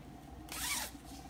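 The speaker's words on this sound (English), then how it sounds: "I got a zipper." A zipper on a fabric pillowcase is pulled once in a quick, close rasping zip against quiet room noise.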